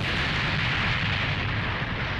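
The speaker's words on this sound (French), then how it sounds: "Des explosions." Explosions in the French-dubbed anime Rave Master: a loud, continuous roaring blast rumble that fills the whole stretch without letting up, with no voices over it.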